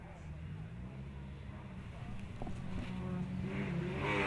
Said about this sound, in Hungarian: utána pedig már hallani, hogy érkezik egy újabb autó